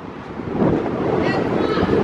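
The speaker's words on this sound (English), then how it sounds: "Let me see if I can get out of this wind" Strong wind in Amarillo roars and buffets the microphone continuously, rising slightly after the first half second, with no talking.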